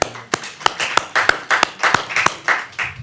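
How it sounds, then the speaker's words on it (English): Sparse audience applause during a Yom Kippur talk, a handful of separate claps and short bursts that come and go rather than a full roar, close and fairly loud. "you can give yourselves an applause."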